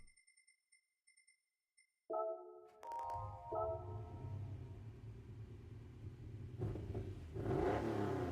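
In Forza Horizon 5, a Lamborghini Countach's engine fires up after a few electronic beeps, then rumbles and revs with a deep, rising growl that grows louder toward the end, heard without talk.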